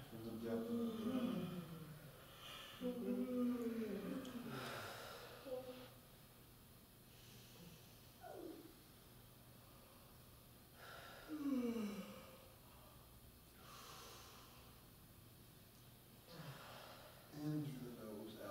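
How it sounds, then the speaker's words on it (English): Slow, deep breaths are drawn in through the nose and pushed out through the mouth in repeated cycles, with soft airy rushes and pauses in between, alongside a quiet guiding voice. "In through the nose, out through the mouth."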